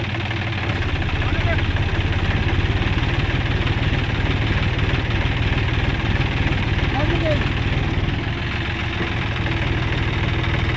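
A John Deere tractor stuck in a farm field, its engine running at a steady idle with a low, knocking mechanical rumble that stays loud and continuous throughout.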